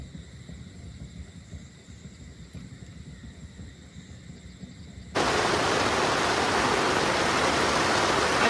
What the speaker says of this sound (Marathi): पाऊस बघा पाऊस जोरात आले